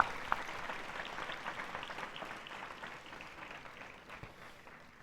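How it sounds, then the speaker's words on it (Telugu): A church congregation at a grotto inauguration Mass applauds together, a soft, diffuse, continuous clatter of many hands heard from a distance that slowly fades over a few seconds. "గట్టిగా చప్పట్లు కొట్టి దేవుని"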